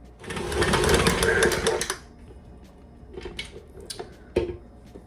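A stand mixer's paddle churns wet gluten-free roll dough with a steady, close motor whir for about two seconds, then stops, leaving a few soft knocks and clicks.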